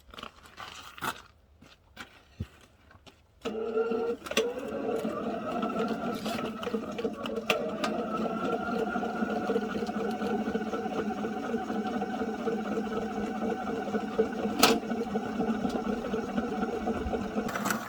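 Drain snake machine running cable through a storm drain: a steady, continuous mechanical whine and rumble that starts after a few seconds of scattered knocks and carries on evenly to the end.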